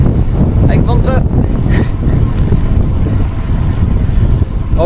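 Strong Autan headwind buffets a cyclist's microphone on a small col near Perpignan, a loud continuous rumbling roar that fills the whole clip without letup.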